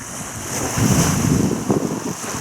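Waves rush past a sailboat under way on a beam reach in swell, heard as a loud, continuous wash of water mixed with heavy wind buffeting the microphone, with no voices.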